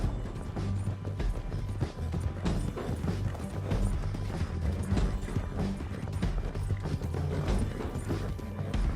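Horse hooves clip-clop in a steady trotting rhythm in Red Dead Redemption 2, with faint tack and mechanical rattles riding along and little talk over them.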